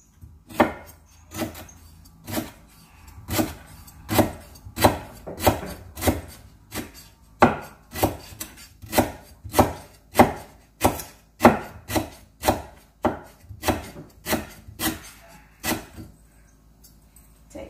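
A knife chops lemongrass steadily on a cutting board, about one firm stroke per second for the whole stretch, close and clear with no talking.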